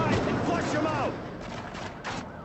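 Gunfire in Call of Duty MW3 or Black Ops, running on the Dolphin emulator, rattles in mid-level bursts beneath someone talking throughout.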